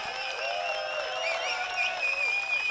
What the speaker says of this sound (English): they clapped all the way down